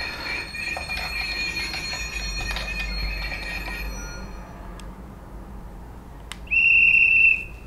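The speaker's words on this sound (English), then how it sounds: "And finishing off with guards whistle." Guard's whistle sound effect from a Bachmann Branchline Class 419 MLV model train, a shrill sustained whistle tone near the end, following a fading stretch of electronic rail squeal and rumble.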